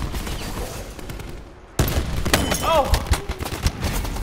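Incoming fire hits the player in Call of Duty Black Ops 4, with dense loud cracks and impacts and a sudden burst partway through, under a startled exclamation.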